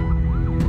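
Ambulance siren wailing from a vehicle carrying a patient, stuck in a traffic jam on Jalan Yos Sudarso heading toward Tanjung Priok port; a loud, sweeping tone rises and falls over a steady low rumble of idling traffic.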